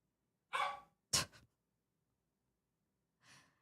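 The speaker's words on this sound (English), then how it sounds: "He slept all fucking day, and now he wants to be in my room and barking at me." A dog indoors gives two short, sharp barks in quick succession, then one softer bark after a pause, with quiet between them.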